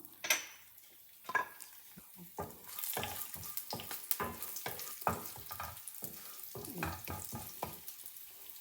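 Mustard and fenugreek tempering seeds crackle and sizzle in hot olive oil in a pan, with sharp irregular pops and spatters, occasional stirring scrapes and utensil clinks, close and fairly quiet, with no talking.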